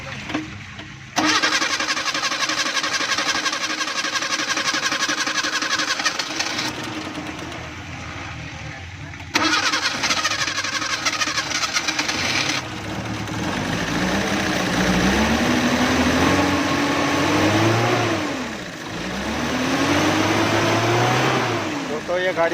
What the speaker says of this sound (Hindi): तो ये गाड़ी स्टार्ट हो गई है